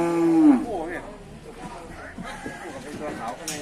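Cattle at a Thai livestock market, one loud nearby moo up front followed by fainter lowing and market bustle, with voices talking through the rest.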